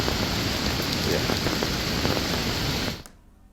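Heavy, steady rain pours down in the Uttarakhand hills near a landslide-blocked highway, a dense continuous hiss that cuts off abruptly near the end, leaving near silence.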